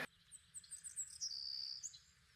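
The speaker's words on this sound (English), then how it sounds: "I love the sound of birds" Small birds chirping in a forest, a few quick bright tweets and a longer thin whistled note over a faint low background hum, fairly close, with no talking.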